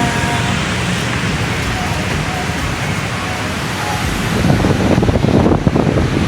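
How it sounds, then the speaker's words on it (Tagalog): Strong wind on a footbridge buffets the microphone in a steady broadband roar, growing rougher and louder in the last couple of seconds, with no voices. "Ang lakas ng hangin."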